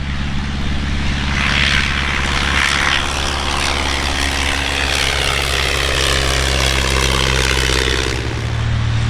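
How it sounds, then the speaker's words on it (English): A 1934 de Havilland Tiger Moth biplane takes off at an antique airplane aerodrome, its propeller engine droning loud and near in a sustained roar that shifts pitch as it climbs, with no voices. "And the first to ascend into the atmosphere is Dynamite Dave King in his 1934 de Havilland Tigermoth."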